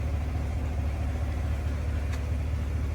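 A 2015 Cadillac Escalade engine with a rebuilt motor and AFM delete kit idles steadily, a low continuous rumble heard up close, with the tapping not clearly distinct above the drone and no talking.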